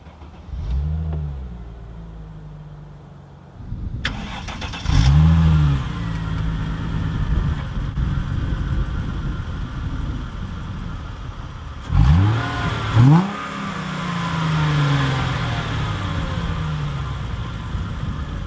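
A 2006 Chrysler Crossfire Limited with a six-speed manual cranks and fires up, then gives a few quick revs before settling into a steady idle, heard close and alone with two more sharp blips of the throttle later on.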